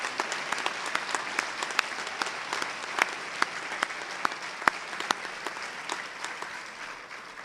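An audience at an evening youth service awards program gives a round of applause for the awardees and nominees, a thin, fairly sparse patter of individual claps with sharp distinct hits, steady throughout, no talking.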